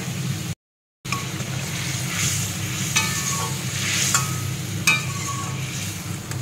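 Eight bele fish going into a spicy oil curry and simmering there, a dense sizzling, bubbling hiss with occasional stirring clinks and scrapes, close and steady, briefly cut to silence near the start.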